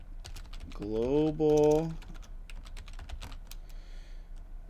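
A computer keyboard clatters with quick, irregular keystrokes as a script name is typed, and a person speaks briefly over the clicking.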